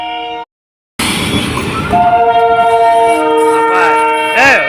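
A train horn blares briefly, then after a short gap a diesel locomotive rumbles past with a loud, sustained horn sounding over the rolling noise.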